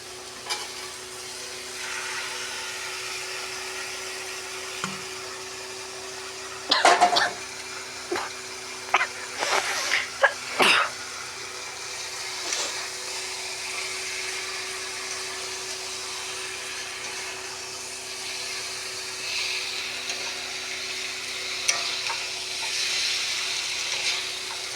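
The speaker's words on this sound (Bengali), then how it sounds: "এবার আমি এর মধ্যে মাংসটা দিয়ে দেবো" Meat being stirred and fried in hot oil in a pan, a steady sizzle underneath with a burst of scraping and clattering stirring strokes midway, then the hiss continues.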